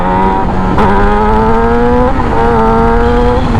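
A Yamaha YZF R6 Raven sport bike pulls away under throttle, its engine note climbing through gears in a loud, close, continuous rising whine with brief dips at shifts.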